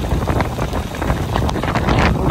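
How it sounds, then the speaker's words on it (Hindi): Strong wind buffets the microphone outdoors, a loud, continuous roar with irregular gusty bursts and rumbling low end, with no speech over it. "फ्रेंड्स देख सकते हो कितना हवा चल रहा"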